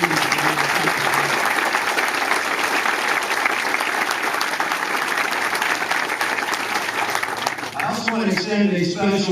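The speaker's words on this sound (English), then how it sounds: "Have a round of applause for this great team." Sustained audience applause fills a military installation redesignation ceremony, steady and loud throughout, with a voice and a brief musical phrase emerging near the end.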